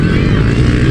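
Motocross bikes roaring at a race event, a loud, steady engine drone close by that fills the whole moment.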